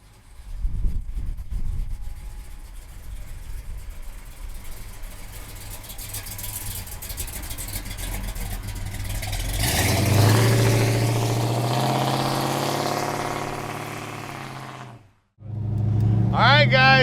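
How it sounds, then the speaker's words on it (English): A black 1969 Dodge Charger with a HEMI V8 idles with a deep rumble, then revs up to a louder sustained roar before cutting off briefly and restarting, with someone talking in between. "All right, guys, black Charger, HEMI under the hood. Listen to that."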